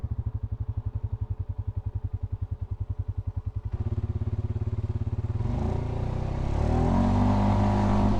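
A Polaris Sportsman 570 ATV engine on a test ride, starting as a loud, close, rhythmic idle thump, then picking up into a smoother running drone that rises in pitch as the throttle opens.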